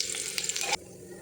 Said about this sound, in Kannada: ಇದಕ್ಕೆ ಎಣ್ಣೆ ಹಾಕಿ ಸಣ್ಣದಾಗಿ ಹೆಚ್ಚಿರೋ ಬೆಳ್ಳುಳ್ಳಿಯನ್ನು ಹಾಕಿ ಗೋಲ್ಡನ್ ಬ್ರೌನ್ ಬರೋವರೆಗೂ ಫ್ರೈ